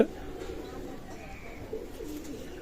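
Pigeons coo softly and steadily in a loft in Daulatpur, Khulna, with a low murmur of several birds close by and a voice speaking over them.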